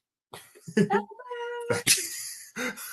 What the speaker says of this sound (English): Every time we show the cat, she just replies, Albert.